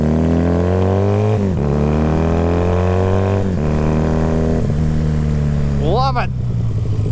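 A motorcycle engine revs loudly while riding, its steady droning note rising through each gear and dropping at every shift, close and continuous for several seconds, with a voice speaking over it.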